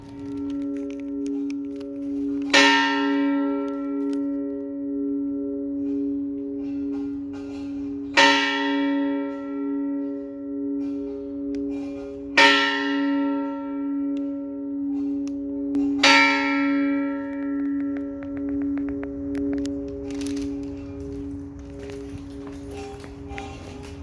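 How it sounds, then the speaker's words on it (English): Mission bells along El Camino Real ring out four times at slow, even intervals, each clear metallic strike leaving a long sustained hum that fades between strokes, with faint footsteps underneath. "These are mission bells that I think in 1930 something some rich lady put all along the El Camino Real"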